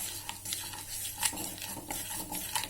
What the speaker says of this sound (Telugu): సో దాన్ని కాస్త మీరు స్పూన్ తోటి కలపండి.